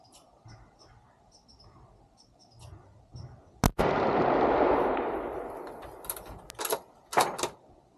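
A single sharp, loud rifle shot from a .350 deer rifle cracks out during a doe hunt in Michigan woods, followed by a long rolling echo that fades over several seconds, then a few faint clicks and knocks.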